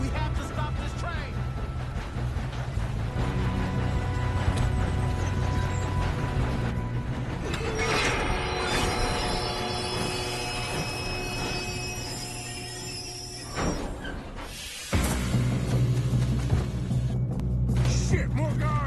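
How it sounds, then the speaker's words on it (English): A train rumbles along the rails in Red Dead Redemption 2, a steady mechanical clatter with metallic squeals and a sudden crash near the end, mixed with faint voices. "We have to stop this train."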